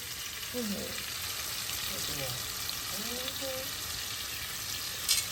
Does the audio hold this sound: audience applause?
no